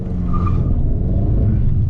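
Fiat 500 Abarth 595 engine pulling hard under acceleration, a loud, steady low rumble heard from inside the small hatchback, with no talk over it.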